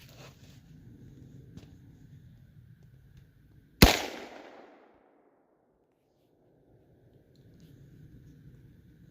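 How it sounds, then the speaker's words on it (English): A single loud, sharp rifle shot from a scoped .30-30 fired at targets 300 to 400 yards away cracks out and decays into a fading echo, over quiet outdoor background with soft wind rumble. "here you go, first shot."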